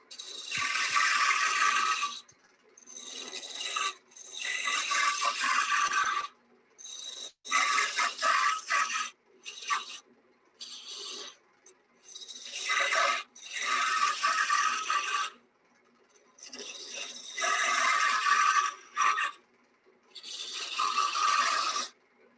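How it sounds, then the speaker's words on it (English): A roughing gouge cuts wood on a lathe in repeated rasping bursts of a few seconds each, separated by short pauses, loud and close with no talking. "You can see why they call this a roughing gouge, because you're just doing rough work, just getting rid of wood."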